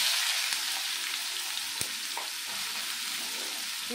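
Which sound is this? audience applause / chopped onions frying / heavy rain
chopped onions frying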